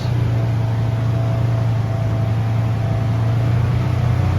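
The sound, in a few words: Polaris engine revving at high RPM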